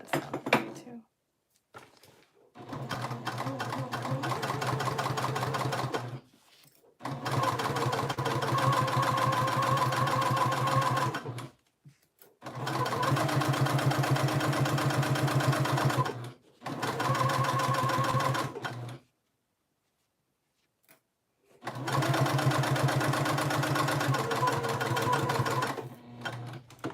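A sewing machine back stitching a canvas tote bag runs in five bursts of steady mechanical whirring, each a few seconds long, separated by brief pauses.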